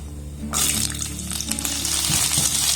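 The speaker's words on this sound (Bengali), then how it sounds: "পেঁয়াজটাকে প্রথমে একটু হালকা করে নাড়াচাড়া করে ভেজে নেব।" Onions hitting hot oil with a pinch of whole cumin seeds in a kadai, bursting into a sudden, loud, steady sizzle that carries on close up.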